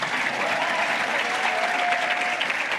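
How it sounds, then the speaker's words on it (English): Audience applause fills a graduation ceremony hall at the African Leadership University in Rwanda, a dense, steady wash of many hands clapping for nearly three seconds with no voices on top. "If you want to clap, clap."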